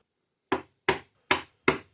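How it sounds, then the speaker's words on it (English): A chisel is struck four times to cut waste from tiger maple, each sharp, close knock landing at an even pace about every 0.4 seconds. "I have the chisel inserted so the bottom is facing up and the angle part is down towards the wood."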